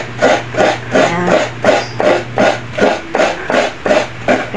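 A sharp handheld grater working santol fruit in a home kitchen gives steady, rhythmic rasping strokes, about ten in quick even succession, close and fairly loud.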